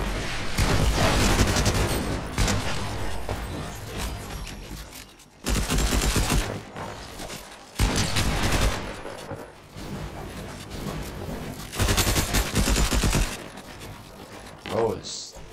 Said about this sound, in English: just keep shooting that brick wall. Shoot the brick.